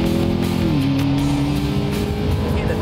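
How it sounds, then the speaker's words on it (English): Loud, close McLaren MP4-12C sports car engine with twin turbos, driven on a track, holding a steady droning tone that dips slightly in pitch early on, then runs on evenly. "You hear the turbos kicking in"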